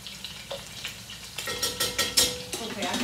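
Butter melts with flour in a pot for a shrimp gumbo roux, giving a light sizzle under irregular stirring scrapes and soft pot clinks that grow busier toward the end.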